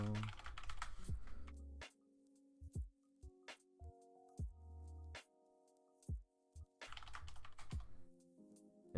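A password is typed on a computer keyboard during Windows Server 2019 setup: quiet, close keystrokes come in short bursts with pauses between them, then a quicker cluster of taps near the end.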